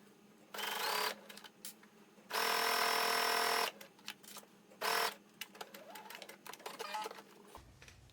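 Sewing machine stitching a fabric reading cloth for a tarot bag, with short bursts of rapid mechanical stitching separated by pauses and small handling clicks, close and fairly quiet.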